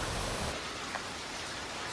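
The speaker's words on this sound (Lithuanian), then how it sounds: "bet lietus lyja" Steady rain falls outdoors in a town in the Alps, a dense, even hiss with no distinct drops or voices, brief and moderately quiet.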